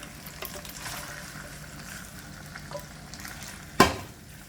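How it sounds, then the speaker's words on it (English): Cream hits a hot pan of jerk shrimp Rasta pasta, giving a steady frying sizzle with soft stirring, topped by one sharp, splashy burst near the end. "So let us now add our cream"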